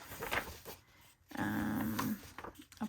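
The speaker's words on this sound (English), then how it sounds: "my dog is sleeping and she's obviously dreaming because you can hear her" A sleeping, dreaming dog lets out soft whimpers and a low, drawn-out growling moan, with brief muffled sounds around it in a quiet room.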